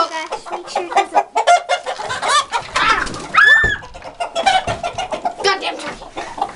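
Backyard chickens cluck and squawk nearby in a busy, continuous flurry at a coop, with one louder rising squawk in the middle. A rooster and a turkey are also among the flock.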